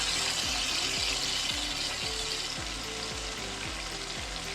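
Marinated fish sizzles loudly as it goes into hot masala in a karahi, a dense continuous frying hiss with rhythmic scraping or stirring strokes beneath it, close and steady.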